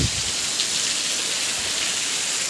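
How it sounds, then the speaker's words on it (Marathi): Heavy rain pours steadily on a pomegranate orchard, a dense, even hiss of drops with no pauses and no voices. "हे पहा मित्रांनो, एक नंबर पाऊस चालू आहे."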